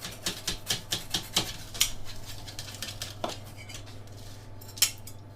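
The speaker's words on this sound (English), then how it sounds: "So just with a sharp knife, just trim the edges" A sharp knife trims the pastry edges of an organic vegetarian goat's cheese quiche, giving quiet, rapid clicks and scrapes against the dish in a quick run of cuts, then sparser taps, over a low steady hum.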